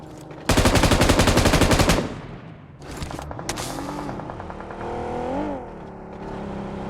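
Automatic gunfire in a battle royale shooter game, heard as a loud rapid burst of about forty shots lasting a second and a half. Vehicle engine noise, engine revving and further game sounds follow.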